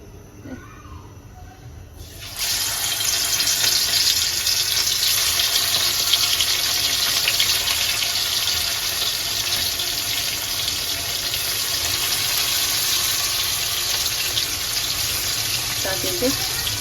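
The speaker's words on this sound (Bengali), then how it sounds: "এখন আমি মাছগুলো ভেজে নেবো" Hilsa fish fry in oil in a wok. After a brief quieter start, a loud, steady, close sizzling hiss begins and carries on without a break to the end.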